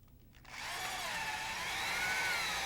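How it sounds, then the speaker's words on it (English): Power drill boring bolt holes through a Rotorway Exec 162F helicopter engine mount clevis, guided by bushings and airframe tubes; a whining drill spins up after a short pause and runs steadily and close. "Drill the bolt holes through the clevis using the bushings and the airframe tubes as a guide"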